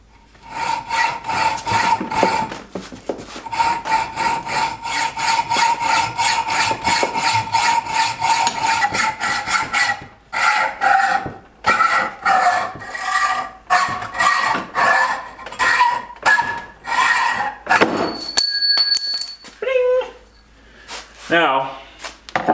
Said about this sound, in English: And I want to try to cut this threaded rod.